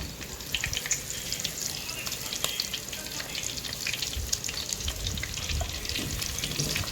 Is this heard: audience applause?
no